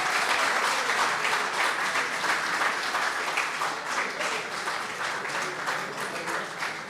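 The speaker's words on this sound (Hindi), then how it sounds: "एक बार इनके लिए जोरदार तालियां बजा दीजिए" A crowd at a poetry gathering breaks into vigorous, sustained applause to welcome arriving poets, a thick continuous roar of clapping that holds steady for several seconds without speech.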